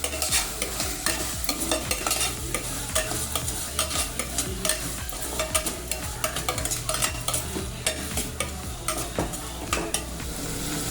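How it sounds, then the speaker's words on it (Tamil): Onions sautéing and being stirred in a pan for veg biryani with peas, a steady sizzle broken by frequent scraping stirs, close and alone with no talk. "வெங்காயம் நல்லா வதங்கணும்."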